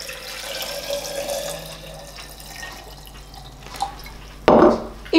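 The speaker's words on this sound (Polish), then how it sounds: "zalewam zimną wodą." Cold tap water runs into a glass jar packed with radishes, a soft liquid wash that builds into a brief, louder splashing gush near the end, with no talk.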